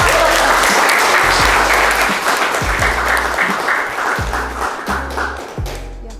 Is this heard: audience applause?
yes